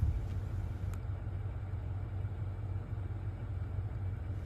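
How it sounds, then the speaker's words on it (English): Car engine idling steadily during a dash cam wiring installation, a low continuous rumble close by with a faint click near the start, no talk. "The engine should be running."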